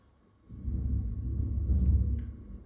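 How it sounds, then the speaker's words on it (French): Thunder outside a home rolls in suddenly as a deep, sustained low rumble that swells and fades over a couple of seconds, heard from indoors with no talk. "c'est le tonnerre"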